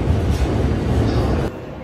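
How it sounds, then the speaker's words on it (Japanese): A Chuo Line limited express train pulls into a station platform in Japan with a loud, close, low rumble that drops off sharply near the end. "というわけで列車が入ってきました。"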